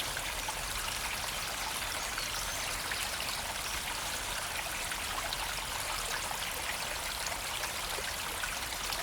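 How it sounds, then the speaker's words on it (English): A shallow South Downs river running low in a hot summer trickles and babbles in a steady, even wash, heard alone without talk. "the river level is actually quite low at the moment"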